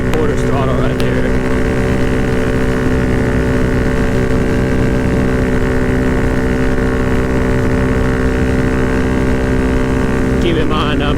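A small engine fitted with a DHM 149cc big bore kit drones at about three-quarter throttle, a loud, steady, buzzing roar that holds evenly throughout and sounds close.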